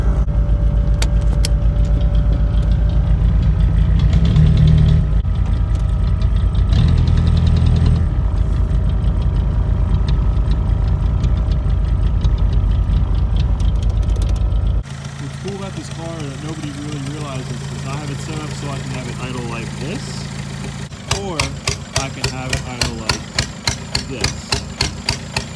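A Volkswagen TDI diesel engine idles with a steady, loud low rumble and repetitive knocking, shifting in tone partway through and ending in a rapid pulsing patter.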